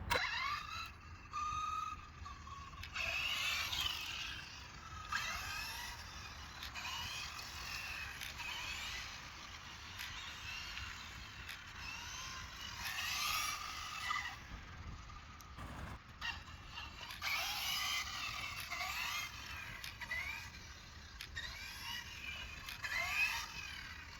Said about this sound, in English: I'm going to hold the throttle lightly and steer, and you can hear the motor cutting power.